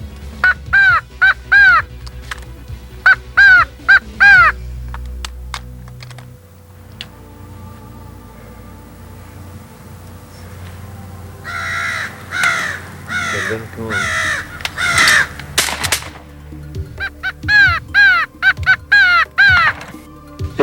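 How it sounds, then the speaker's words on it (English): Crow calls used for crow hunting from a blind, sounding as repeated loud caws in quick bursts. Some bursts sound like a hand call, others like distant real crows, and there are crackling noises and rustling between them. "you can actually give the call that you need at the appropriate time to turn the crows around or else to bring him to you over to your blind"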